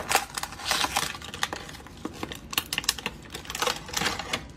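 A toy action figure is torn out of its cardboard and plastic blister packaging, heard as close, sharp crinkling, tearing and snapping bursts in quick uneven clusters, with no talking.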